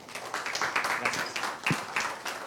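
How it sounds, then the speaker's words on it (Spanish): An audience at a Pacífico Business School finance event claps for a professor being welcomed to the stage: dense, steady applause lasting a few seconds at moderate volume in a hall. "Un aplauso para él"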